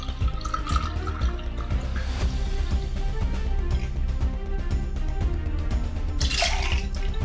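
Pineapple juice pours into a cocktail glass in a steady liquid stream with dripping splashes, close and moderately loud, ending in a brighter splash near the finish.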